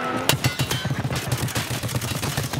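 Rapid, steady automatic gunfire in a shooter video game, a sustained rhythmic burst of shots fairly close and loud, with no talking.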